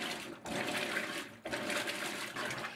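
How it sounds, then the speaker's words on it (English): Kenmore 22352 top-load washing machine filling with water and agitating hard, a continuous rushing, sloshing churn broken by two brief dips as the agitator reverses, heard alone at moderate level. "After the initial fill, which seems to be the same as in the first light load, the agitation is absolutely brutal."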